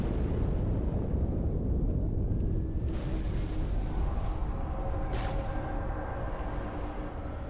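An explosion in Halo 2 at High Charity booms as a loud, rumbling low blast that rolls on, with brief whooshing and crackling debris sounds, and no voices.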